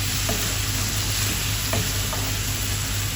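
Mango pieces stir-fried in a pan with pickle-style spices, giving a steady, loud, close sizzle with a few soft scrapes of stirring throughout.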